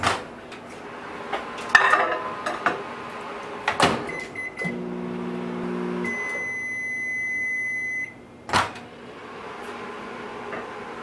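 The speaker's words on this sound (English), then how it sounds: "put it in the microwave for about 30 seconds" Kitchen sounds around a microwave oven melting butter in a glass dish: clinks of dishes, a door closing, then a steady hum with a bright electronic tone, and sharp clicks and beeps near the end, no talking.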